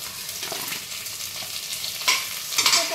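Chopped onion and green chilli frying in oil with whole spices like bay leaf, cinnamon and star anise, a close continuous sizzle with stirring scrapes and a couple of louder crackles near the end.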